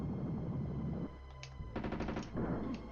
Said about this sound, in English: So all it takes is about 1/3 of a second of your machine gun barrage